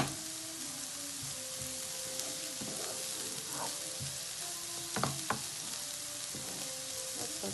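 Rice, shrimp and courgettes fry over low heat in a pan, giving a steady, soft sizzle with occasional clinks and scrapes of stirring.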